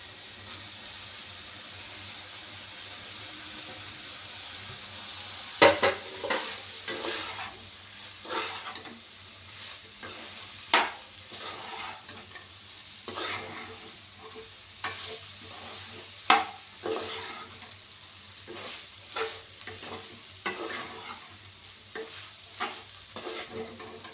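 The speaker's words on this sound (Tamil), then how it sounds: "நம்ம ஆல்ரெடி ரெடி பண்ணி வச்சுருக்க பாஸ்தாவை இதில் போட்டு மிக்ஸ் பண்ண போகிறோம்" Pasta being stirred into a vegetable masala in a hot pan, with a steady sizzle and repeated scraping strokes of the spoon against the pan, some sharp clacks, close and fairly loud throughout.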